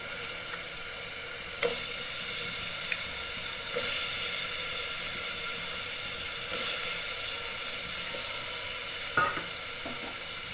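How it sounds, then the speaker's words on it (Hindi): Cut potatoes fry in a pan with a steady, close, bright sizzle throughout, broken by a few brief stirring knocks and scrapes. "और उसके बाद ऐड करूँगी अपने आलू, जो मैंने आलू कट करके रखे हैं ना"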